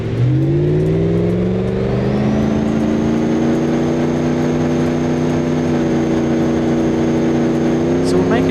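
A simulated car engine in BeamNG.Drive revving hard on a rolling road dyno, a loud steady roar with rising harmonics that climb and hold at high revs, with a faint whine above.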